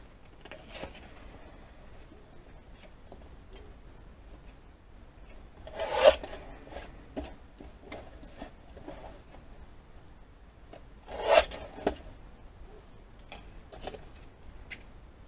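Paper being trimmed for a heat embossing card project, quiet rasping cuts and rubbing with two louder scraping bursts midway, close up and otherwise hushed, no speech.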